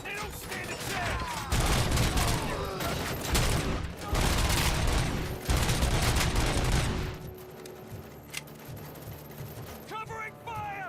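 Heavy, loud gunfire in the RoboCop Rogue City video game: sustained rapid automatic bursts up close that ease into sparser shots, with voices shouting over the shooting.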